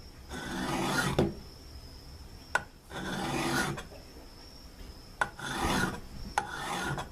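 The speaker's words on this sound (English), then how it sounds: "what I've been doing is taking it and rubbing it into the stone" A leather slot punch (Tandy Craft Tool) is rubbed against a sharpening stone in four steady, close rasping strokes, each ending in a short scrape or click, with brief pauses between strokes.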